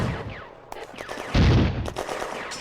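French forces open fire in a war strategy game set in the Flaumont industrial zone in May 1940, with a brief crackle of shots followed by a louder, heavier burst of fire in a short, busy battle mix.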